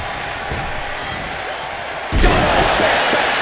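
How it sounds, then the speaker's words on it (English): A heavy thud as a wrestler is body-dropped onto the ring mat during a WWE Raw women's tag match, a single loud impact partway through, under steady arena crowd noise and commentary. "Body drop."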